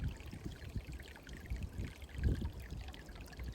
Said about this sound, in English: there's just a tiny little stream that kind of comes down